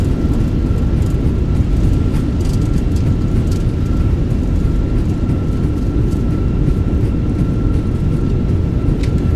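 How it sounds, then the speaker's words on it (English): Airbus A320 (Fenix model in a flight simulator) thrust reversers roaring as the jet decelerates after landing at Queenstown, a loud steady broadband rumble with a faint thin whine, continuous throughout. "Nose down gently. Reversers are out. Decelerating."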